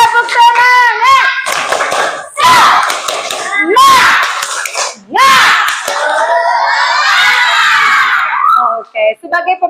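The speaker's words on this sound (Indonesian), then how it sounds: "kita mulai tepuk semangat dulu. Tepuk semangat." A class of children in an Islamic religious education lesson performs rhythmic spirit clapping, loud bursts of hand claps mixed with shouted, chanted voices, close and energetic throughout.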